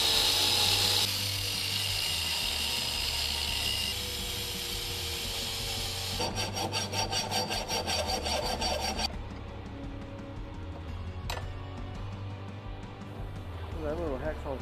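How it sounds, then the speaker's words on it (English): A small hacksaw cutting a metal turbo manifold flange for a 3.8 V6 Mustang race car, rapid rasping strokes up close, with a brief pause and the sawing resuming, under occasional talk. "That little hacksaw's gonna work out."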